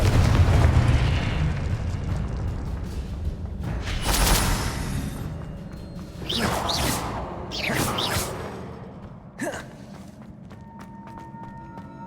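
Confringo blasting spell explosions in the Hogwarts video game: a loud rumbling blast up front, then several whooshing bursts and a sharp final crack, with footsteps and game effects between them.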